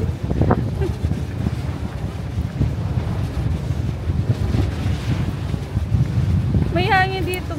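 Strong wind buffets a boat off Guimaras, a steady rumbling roar of gusts on the microphone with water movement underneath, continuous from start to end, with a brief voice near the close.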